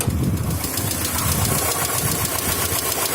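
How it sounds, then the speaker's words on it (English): A 1995 Subaru Legacy engine idles close by with a steady, rapid, loud metallic valve tick running through the rumble. "The Subarus always have a bit of a tick. This one's just kind of loud."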